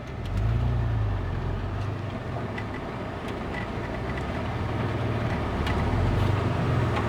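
A 1993 Ford F-150 pickup with a five-speed manual transmission rolls in reverse during a test drive, giving a steady low engine drone with road rumble that stays even throughout, with no talk.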